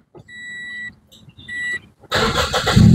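A Toyota Vios fitted with an aftermarket racing exhaust starts up after a couple of beeps and a short cranking attempt, then catches into a loud, rough, close idle rumble, with no talking.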